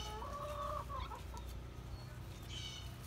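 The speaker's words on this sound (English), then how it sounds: "We have our chickens over here." Backyard chickens cluck and murmur close by near a homemade coop, a few short rising calls standing out over a steady low outdoor hum, with no one talking.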